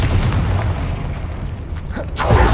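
Confringo blasting spell explosion in the Hogwarts Legacy video game, heard in a catacomb as a short booming burst over a dull ambient rumble.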